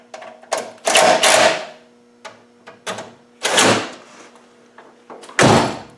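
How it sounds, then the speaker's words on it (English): A car door with a poorly adjusted striker plate, several loud sharp slams and bangs in irregular succession, close and isolated with quiet gaps between. "Shut the door."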